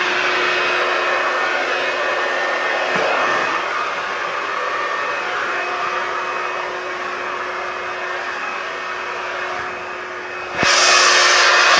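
A hairbrush blow dryer whirs steadily and loudly at close range, then its pitch and volume jump near the end as it switches to a higher setting.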